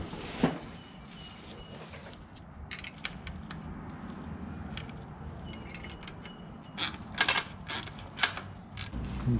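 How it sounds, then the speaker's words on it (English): Mechanical ratcheting and clicking from a jack raising a BMW 335i with an N54 engine during intercooler work, a steady close grinding texture with sharper clicks clustered near the end. "I'm gonna go and jack this up right now."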